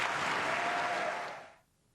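Audience applause at a formal event honoring a public figure, a broad, even wash of clapping from a crowd that holds steady and then tapers off into near silence.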